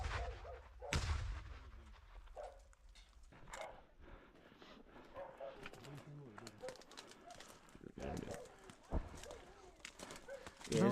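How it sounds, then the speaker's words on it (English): Artillery shells or mortars firing on the front lines of the war in Ukraine, heard as several sharp distant booms scattered through the stretch under ongoing talk. "There's shells flying over their head, or mortars probably."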